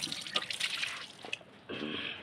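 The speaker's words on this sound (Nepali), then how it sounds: "यो रहेको छ हाम्रो पानी खाने ठाउँ।" A drinking-water tap runs in a garden, giving a faint, soft trickle and splash that shifts midway into a slightly fuller steady flow.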